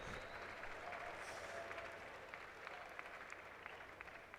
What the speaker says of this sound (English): People like to clap.